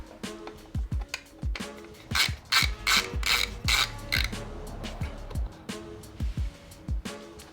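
A 4mm hand tool ratchets in repeated clicking bursts while backing out a screw from a motorcycle's side radiator guard, close and distinct with brief pauses between strokes.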